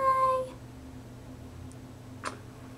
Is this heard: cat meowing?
yes